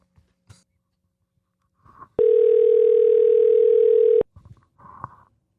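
One ringback tone sounds on an unanswered phone call, a loud, steady electronic hum lasting about two seconds. Brief soft rustles and faint noises come before and after it.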